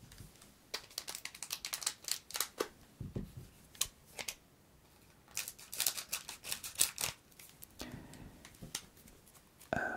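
Hands opening Pokémon card booster pack packaging, close crinkly tearing and crackling bursts in irregular clusters with short pauses, soft and intimate with no talk.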